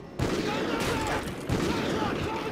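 Rapid gunfire bursts in the shooter game Call of Duty: Ghosts, loud and sustained across the clip, with two sharp onsets and a voice talking underneath.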